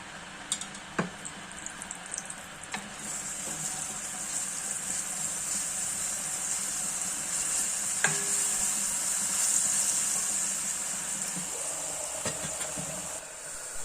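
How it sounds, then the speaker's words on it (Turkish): Crushed garlic sautéing in a little oil for a green bean tarator dish, a steady close sizzle and hiss running throughout with occasional light ticks and stirring clinks, no talking. "Ezmiş olduğumuz sarımsaklarımızı biraz yağ koyup kavuruyoruz."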